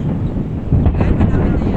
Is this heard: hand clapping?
no